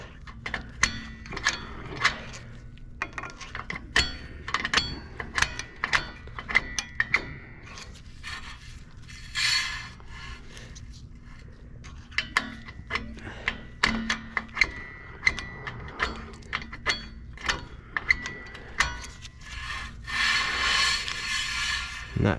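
Rear drum-in-hat brake star adjuster on a Kia Soul or Forte being turned with a tool through the access hole, giving irregular close clicks, ticks and light scraping with brief pauses and no talk.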